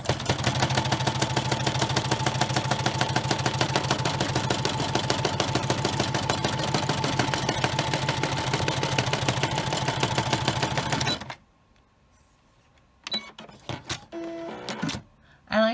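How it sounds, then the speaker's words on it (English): An embroidery machine stitches an in-the-hoop travel tag with a fast, even mechanical chatter that runs loud and steady, then stops abruptly into near silence and a few scattered clicks and handling noises. "I like to run it twice just to have that final stitch be really strong"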